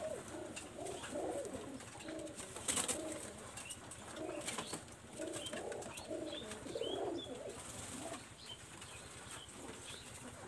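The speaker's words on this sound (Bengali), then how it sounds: "এটা ফিমেল কবুতর, দেখেন চোখ দেখেন, লাল চোখের কবুতর" A red-eyed female pigeon coos softly in repeated low phrases, close by and faint, with wings flapping now and then in a quiet setting.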